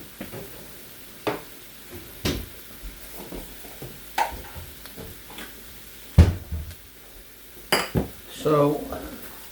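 Shrimp cooking in gravy in a pan for traditional Chinese red shrimp, with a utensil clanking and scraping against the pan in scattered loud knocks over a faint sizzle, and a voice briefly talking near the end.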